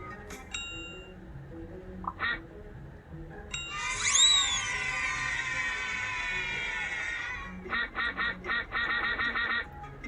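Cartoon ducks in the reading game Teach Your Monster To Read give honking quacks alongside bright synthesized chimes, a rising swoop and a run of short rhythmic electronic blips, with no talking.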